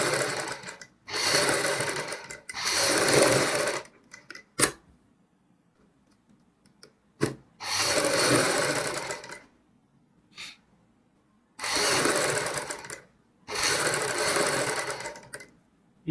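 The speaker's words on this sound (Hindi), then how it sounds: "बुकरम के ऊपर एक सिलाई लगाएंगे इस प्रकार, जैसे मैं सिलाई लगा रहा हूं।" Sewing machine stitching a line of buckram for a blouse back neck design, running in several loud bursts of a few seconds each with quiet pauses and small clicks between them, close up and with no talking.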